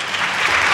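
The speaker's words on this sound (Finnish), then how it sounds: "Joten annetaanko vielä isot aplodit?" A short, steady burst of audience applause for regional representatives at a Finnish seminar on children's rights, dense and even with no voices over it.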